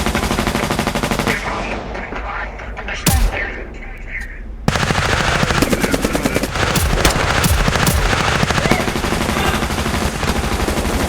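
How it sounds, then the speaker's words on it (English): Rapid bursts of sci-fi plasma gunfire from guards in a VR role-play game, dense repeated shots that pause briefly and then resume in a long sustained volley. "As you get lit up with bullets by the commander's personal guards"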